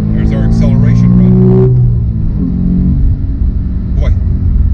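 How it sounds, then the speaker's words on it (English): A 2012 Porsche 911 Carrera of the 991 series accelerating hard, a loud rising engine roar for under two seconds before a sharp shift drops it to a lower rumble, with someone talking. "Here's our acceleration run."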